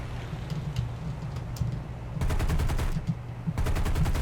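Rapid machine-gun bursts ring out from bomber aircraft in the War Thunder combat game, two loud rattling volleys over a low, constant engine drone.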